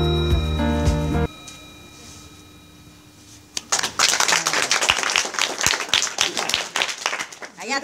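A class of students clap their hands together, a dense run of sharp, uneven claps that starts after a pause and continues loudly to the end, following a stretch of sustained tones and quiet.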